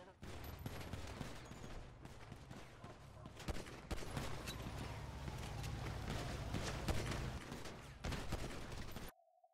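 Sustained gunfire in GTA NoPixel, a continuous dense barrage of overlapping shots with sharp louder cracks throughout, cutting off abruptly near the end.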